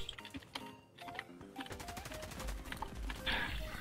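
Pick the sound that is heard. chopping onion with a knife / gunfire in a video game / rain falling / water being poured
gunfire in a video game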